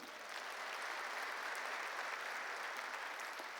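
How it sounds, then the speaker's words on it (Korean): A church congregation claps during a service, a dense, even applause from many people that holds steady throughout at moderate distance. "이 예배의 가치를 아는 자가 오늘 예배에 참여한 걸 믿으면 박수 치세요."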